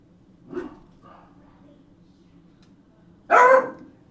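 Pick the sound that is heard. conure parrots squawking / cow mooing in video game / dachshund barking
dachshund barking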